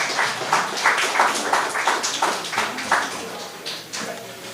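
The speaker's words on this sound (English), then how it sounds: "Let us give her a round of applause" Ceremony audience clapping at the Piton Management Area 20th anniversary event, an even round of applause with overlapping claps that thins out toward the end.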